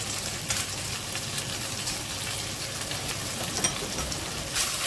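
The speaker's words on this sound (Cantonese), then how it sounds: "等佢喺個鑊嗰度煎一陣。" Sliced pork shoulder searing in a hot wok with ginger slices, giving a steady, close crackling sizzle with soft hissing throughout and no talk.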